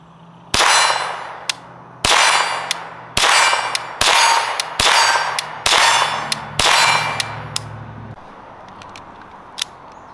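An AR7 airsoft rifle fires about seven loud, evenly spaced sharp cracks with a metallic clang, followed by a few faint clicks as the magazine runs dry, with a low motor hum under the first shots.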